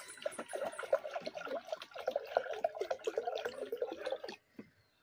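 Water pours into a cooking pot while Jamaican pumpkin punch is being made, a steady close trickle and splash lasting about four seconds before stopping.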